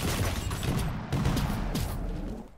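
A rocket launcher blast in a Quake Champions duel: a loud, close burst of explosive crackle and rumble that surges twice over a busy wash of game noise, with no talking.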